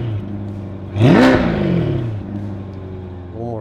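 A C8 Corvette fitted with Paragon Performance 400-cell sport catalytic converters revs sharply once, the exhaust note rising and falling in a loud snarl before settling to idle, then blipping briefly again at the end.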